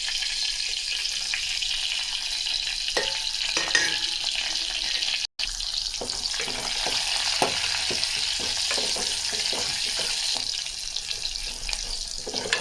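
Dried red chillies, garlic, cumin and mustard seeds frying in hot oil give a steady close sizzle, with scattered crackles and pops and a brief dropout midway, no voices.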